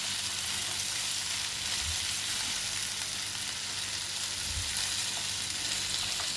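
Chopped spring onions frying in a pan for a Telugu alasandalu curry, a steady loud sizzle throughout with a couple of soft stirring knocks, no voices.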